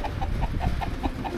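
Chickens on their roost at night cluck softly in a quick, regular series of short notes, close by and low in volume, with a faint rustle beneath.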